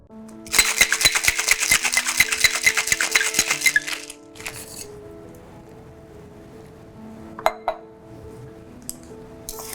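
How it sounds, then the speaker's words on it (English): Ice rattles hard inside a cocktail shaker in a quick, dense burst of clinks lasting a few seconds, then stops, leaving a quiet room with a couple of faint glassy taps. "So now you're going to shake your cocktails."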